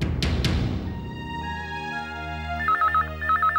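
A telephone rings in a bright electronic trill that repeats in short bursts near the end, following a couple of sharp hits and a ringing musical tone.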